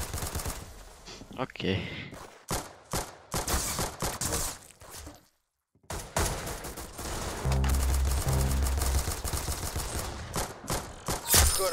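Rapid video game gunfire, bursts and single shots cracking repeatedly at close range with a brief silent gap, while someone talks over parts of it.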